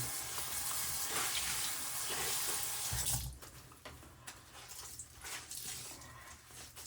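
Running water splashes steadily as a wine-stained shirt is rinsed under a tap, then the flow eases into intermittent splashes and handling sounds, close and fairly quiet.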